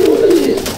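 A Kalduma pigeon, a male with a pitch-black tail, gives a single short, loud, close coo that slides gently downward.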